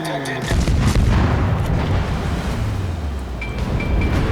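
Ship guns fire during a World of Warships naval battle, a heavy boom rolling into a continuous loud rumble of cannon fire and sea noise, with faint voice chatter underneath.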